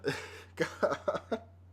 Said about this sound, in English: I might be coughing a little bit